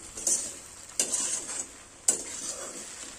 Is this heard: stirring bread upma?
yes